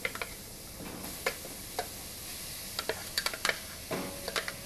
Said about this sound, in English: So into this pan here, add some olive oil. Drop your mushroom mixture into your pan.